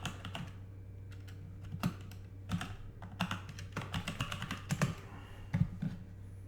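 A computer keyboard is typed on in irregular bursts of quick clicky keystrokes with short pauses, close up and fairly quiet over a low steady hum, with no talk.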